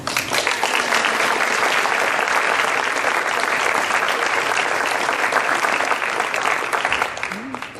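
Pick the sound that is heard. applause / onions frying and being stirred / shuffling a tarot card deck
applause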